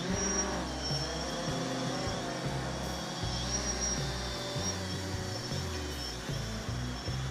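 DJI Phantom 3 Standard drone motors spinning up indoors, a steady whirring hum with high whine tones that stays constant and close throughout, with no speech.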